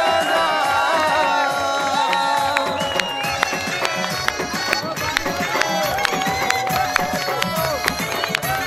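A crowd at a political rally in Dohri chants slogans for Imran Khan, a continuous loud roar of many voices blending with amplified calls, steady throughout.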